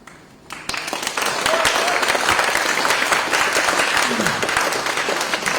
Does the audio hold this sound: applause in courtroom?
yes